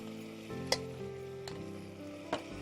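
Mutton fries in a pan with ginger-garlic paste, a soft steady sizzle broken by a few sharp clinks of a spoon stirring, close and fairly quiet.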